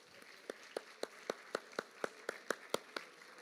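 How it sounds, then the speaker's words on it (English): Hands clap at a school athletic awards ceremony in a fairly faint, evenly spaced rhythm of sharp single claps, about four per second. "let's give your coaches a big round of applause"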